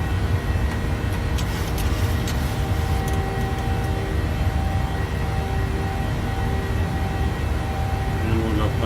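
An airliner climbs away in Microsoft Flight Simulator, its engines giving a loud, steady, broadband roar with a low rumble that holds without a break, while a voice talks faintly underneath.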